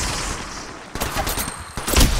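Rapid gunfire from a weapon in the mobile battle-royale game Apex Legends Mobile, bursts of shots loud and close with a sharp cluster near the end, over steady game ambience.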